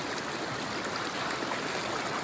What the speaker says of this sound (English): for the second time this year, my normally dry creek bed has run